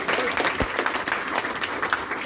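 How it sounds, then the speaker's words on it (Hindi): A symposium audience applauds, a dense, even wash of many hands clapping that holds steady and fairly loud for the whole stretch, with no voices rising above it. "और उसके लिए तालियां होंगे आपको."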